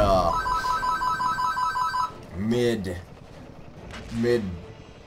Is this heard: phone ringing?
yes